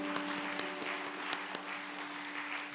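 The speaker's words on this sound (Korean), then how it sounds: "오늘 새롭게 탄생하신 분들을 향해서 우리 축하의 박수 우리 함께 하도록" A church congregation at a Sunday service applauding in celebration, a broad, steady patter of many hands clapping at a fairly soft level, with a sustained tone lingering beneath.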